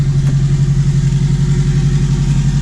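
A boosted Acura TSX warms up at idle, a loud, steady low droning rumble with a slight rhythmic pulse, close by and with no voices.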